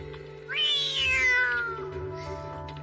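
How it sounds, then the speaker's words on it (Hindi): A black cat in a Hindi film gives a single clear, rising-then-falling meow, close and moderately loud over a quiet background hum, with no talking. "अरे काली बिल्ली थी।"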